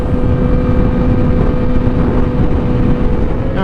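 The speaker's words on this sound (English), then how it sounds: "I'm about to make the first step on my cross-country road trip on my R6" A 2018 Yamaha R6 sport motorcycle drones steadily at a constant, close, loud pitch, mixed with wind rush, on a cross-country road trip.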